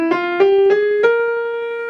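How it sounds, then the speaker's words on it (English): Lydian dominant scale played as a series of clear melodic notes, each struck and held into the next with a steady, sustained tone and no voices. "the Lydian dominant sounds like this"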